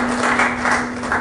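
An audience at a forum on African diaspora and development claps in a brief, dense burst, moderately loud and steady, with a constant electrical hum running beneath it.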